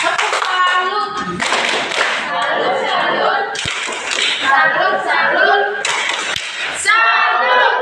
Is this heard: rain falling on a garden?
no